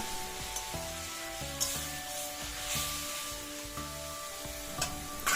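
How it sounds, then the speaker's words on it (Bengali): Masala fries with a little water in a pan, giving a steady soft sizzle and hiss under faint background music, with occasional light clicks of stirring. "এরপর অল্প অল্প জল দিয়ে মশলাটাকে কষতে থাকবো"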